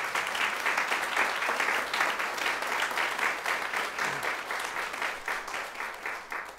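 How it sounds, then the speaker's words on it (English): An audience at a church gathering applauds a contemporary worship band, with steady, sustained clapping from many hands continuing evenly for several seconds without any talking. "So give them an applause again"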